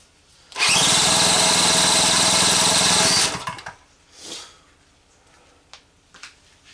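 A drill cranks an engine over for about three seconds, a loud steady whirring buzz that stops abruptly, followed by faint clicks and handling noises.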